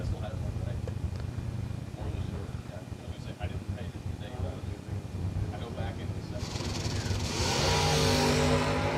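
A Mustang drag race car launches down the strip with a steady mechanical drone that swells into a loud, rising engine roar near the end, while an announcer calls the race over it.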